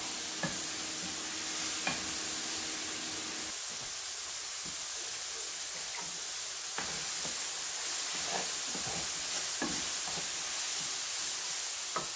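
Chicken breast stir fry sizzling in a pan, a steady hiss with occasional soft stirring clicks and scrapes, close and moderately quiet, with no voices.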